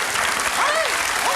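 Studio audience applause on a French television variety show, loud continuous clapping with voices audible over it throughout the short burst.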